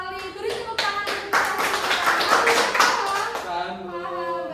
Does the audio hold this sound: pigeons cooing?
no